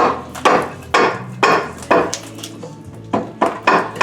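A rubber mallet bangs parts forward off the engine of a 1976 Triumph TR6 under restoration, with about eight sharp, loud knocks at a rough, uneven pace and brief quiet gaps between them.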